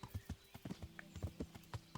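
Horse hooves clip-clop in a steady, fairly quiet rhythm while riding along a road in Kingdom Come, with faint ambient background and no talk over them.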